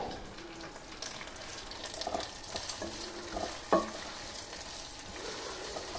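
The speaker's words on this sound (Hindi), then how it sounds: "बस हल्का सा इसको सौते करेंगे। हल्की सी खुशबू आती है" Almond flakes sautéing in a pan, a soft steady sizzle with gentle stirring scrapes and a single brighter clink, close and fairly quiet with no talking.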